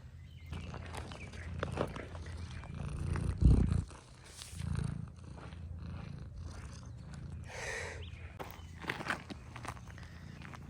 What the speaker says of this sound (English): She is a very affectionate cat and insists on following Grant and I around the farmyard.